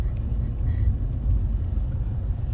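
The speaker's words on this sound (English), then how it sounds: "there comes a car coming out of the circle" A car drives out of a traffic circle on the Las Vegas Strip at night, heard as a steady low road and engine rumble throughout with no distinct pass-by.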